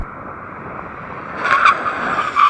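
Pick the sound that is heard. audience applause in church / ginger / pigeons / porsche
porsche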